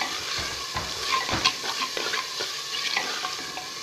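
Large tomatoes, cut normally, frying in ghee and being stirred, a close steady sizzle overlaid with repeated scraping and clinking of the spoon against the pot.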